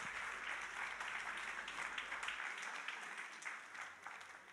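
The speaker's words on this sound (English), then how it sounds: "definitely deserves a loud applause" An audience at a sustainable finance conference applauds, a dense, steady wash of clapping from many hands that holds throughout without talk.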